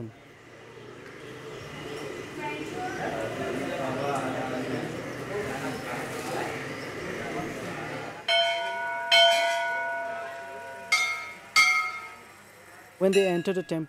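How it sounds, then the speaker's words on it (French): Temple bells rung by worshippers entering a temple along the Brahmaputra, several bright clangs with ringing overtones in quick succession after a stretch of crowd murmur and narration. "Quand on entre dans le temple, on fait sonner les cloches."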